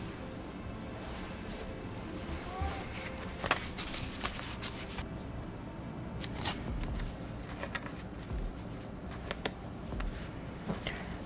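Tarot cards handled and turned over on a table, soft papery slides, flicks and taps scattered irregularly throughout, fairly quiet and close, with no talking.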